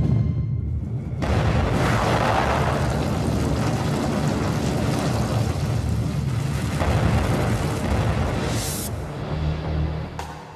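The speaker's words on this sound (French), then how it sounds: "5 à 7 torpilles ont explosé presque simultanément" A deep, rumbling underwater explosion of several torpedoes detonating almost simultaneously aboard the Kursk submarine swells and rolls on for several seconds, heavy low boom with sustained roar, then fades.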